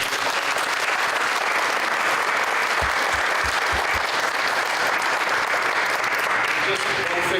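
A community forum audience on heroin gives a sustained round of applause, thick continuous clapping from a crowd at even loudness, with a few low thumps partway through and some voices mixed in.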